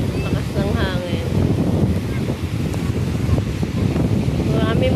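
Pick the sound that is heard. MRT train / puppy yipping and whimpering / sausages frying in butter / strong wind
strong wind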